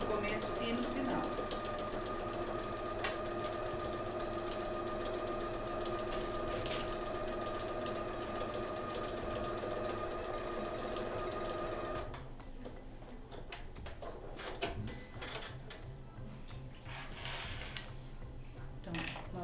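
A sewing machine stitches fabric for a multipurpose baby toiletry bag, a continuous close mechanical whir with rhythmic needle ticking that changes pace partway through as it reverses to backstitch.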